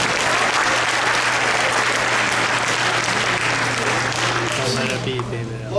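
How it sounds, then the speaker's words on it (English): Panel audience at a fan convention bursts into sustained, dense applause that holds loud and steady before easing slightly at the end, with voices mixed in over the clapping. "Let's give her a round of applause,"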